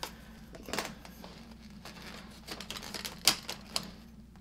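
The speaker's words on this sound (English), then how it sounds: "Clicking that together is just part of the experience." Wand sections of an old Hoover vacuum cleaner with gasketed joints being fitted together: a few light plastic clicks and taps with faint rustling over quiet room hum, one sharper snap near the end.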